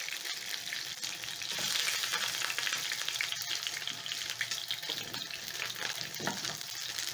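A Nile perch fillet fries in a pan with a loud, steady sizzle and hiss that is heard close up and carries on throughout, with faint clinks of utensils and no talking.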